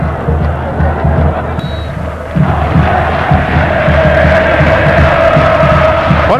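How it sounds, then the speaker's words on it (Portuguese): Loud, dense roar of Ponte Preta football fans cheering and chanting in a packed stadium, a sustained wall of massed voices that swells midway and keeps going. "Olha a torcida da Ponte aí dando uma manifestação de apoio ao time."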